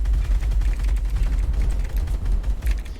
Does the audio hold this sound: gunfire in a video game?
yes